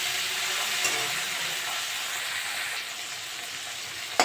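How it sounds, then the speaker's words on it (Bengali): Prawns, peeled and cut, sizzle steadily in a pan with onions fried until reddish, a continuous broadband frying hiss with a few brief clinks, no voices. "আমি এবার চিংড়ি মাছটা একটু ভাজা ভাজা করে নিয়েছি"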